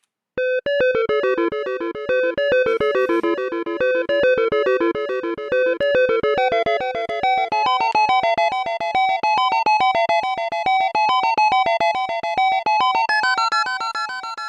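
A bright, buzzy square-wave synth preset plays a fast, punchy beat pattern with every note at maximum velocity, hard-hitting at steady full volume, continuous for the whole stretch with no voices.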